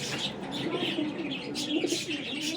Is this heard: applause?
no